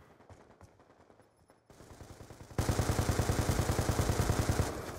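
Gunfire in a shooter video game: a few quiet shots at first, then a louder stretch of rapid automatic fire in a steady rhythmic burst, close and sustained for over two seconds, with no talk.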